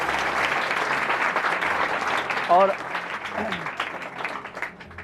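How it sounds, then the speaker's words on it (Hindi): Loud applause from an audience honoring a student's achievement as an assistant teacher, dense steady clapping throughout with a brief voice speaking over it midway. "एक बार जोरदार तालियां आकांक्षा की उपलब्धि के लिए।"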